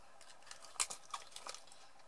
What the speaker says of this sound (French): Puis avec mes petits ciseaux,